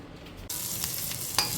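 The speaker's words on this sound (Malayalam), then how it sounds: "സവോള നമ്മൾ വറുത്തെടുക്കുകയാണ് കുറച്ച് എണ്ണയിട്ട് സവോള ഒന്ന് പൊരിച്ചെടുക്കണം" Sliced onions fry in oil for a beef dum biryani, a close, steady sizzle that starts abruptly and continues with faint stirring scrapes.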